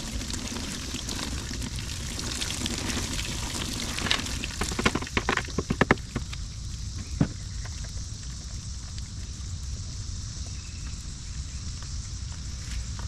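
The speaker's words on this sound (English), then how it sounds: "Let's go ahead and drain this out here." Liquid drains out of a ballistic gel test jug outdoors, a gurgling splash with a few clunks that fades to a steady windy hiss.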